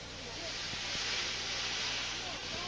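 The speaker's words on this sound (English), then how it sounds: "He blew his whistle and wheezed lots of steam." A toy steam engine gives a long, steady hiss of escaping steam, loud and close, swelling slightly then holding, with a few soft clanks beneath.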